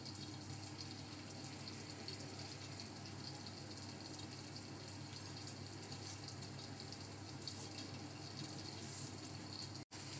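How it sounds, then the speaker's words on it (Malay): Oil is poured into a dough mixture for potato and anchovy curry puffs, a continuous soft liquid trickle with a steady wash of noise and no speech. "Okey, mak nak tuang dulu minyak tu"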